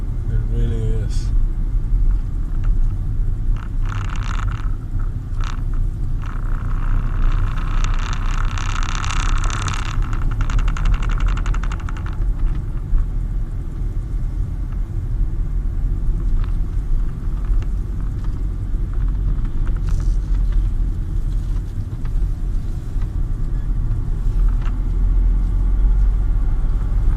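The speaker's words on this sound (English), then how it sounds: "now we are driving into our boondocking spot for today" A Maurice's minivan camper called The Raven rolls along a bumpy road into a boondocking spot, giving a steady low engine and road rumble with a brief rougher stretch early on, loud and continuous throughout.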